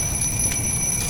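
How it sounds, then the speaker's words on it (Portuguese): An alarm clock rings as it burns in the fireplace game Little Inferno, a continuous, loud, high-pitched electronic tone held steadily with faint crackling underneath. "Ó, despertador."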